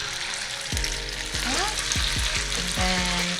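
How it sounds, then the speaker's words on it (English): Kimchi pancake batter sizzles and pan-fries steadily in a hot pan, with a few clinks and scraping sounds over the hiss. "So essentially you're pan frying this."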